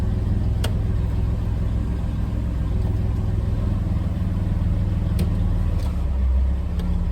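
Chevrolet Camaro pulled out after more than ten years in storage, its engine running with a steady low rumble close by, a few faint clicks over the drone.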